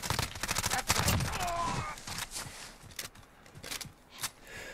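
Enemy gunfire in Call of Duty Modern Warfare, a short cluster of sharp shots early on followed by scattered fainter cracks, with speech-like sound faintly mixed in.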